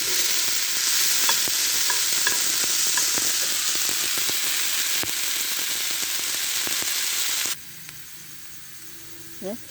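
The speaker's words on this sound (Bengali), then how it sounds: "নেড়ে ছেড়ে ভেজে নেব" Rice khichuri being stir-fried in a pan: a steady, loud sizzle with scraping stirs for most of the stretch, then it cuts off sharply near the end to near quiet with a faint clink.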